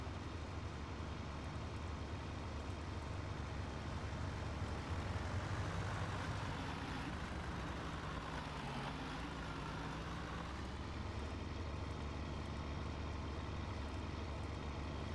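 Tractor engine in Farming Simulator 19 running steadily at moderate speed, a continuous low drone with a slight rise in pitch midway, alone without talk.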